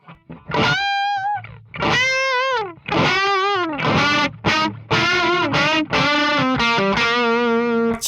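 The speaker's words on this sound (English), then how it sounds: "Here's the Timmy." Electric guitar through a Timmy overdrive model on a Line 6 Helix Fullerton setup, playing sustained, lightly driven chords and single notes with clear harmonic ring, loud and close, alone with no talk and dry without reverb.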